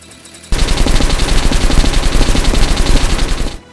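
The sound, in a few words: gunfire in Metro: Last Light video game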